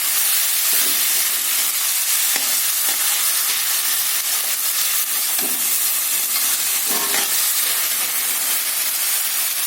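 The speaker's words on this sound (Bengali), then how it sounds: "আদা রসুনের পেস্টটা দিয়ে একটু কষাবো।" Ginger-garlic paste frying for a mutton curry, a steady loud sizzle and hiss throughout, with occasional soft scraping stirs of a spoon in the pan.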